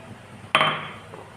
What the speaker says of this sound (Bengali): আর এখন আমি মূলাটাকে কেটে নিব, মূলাও দিব।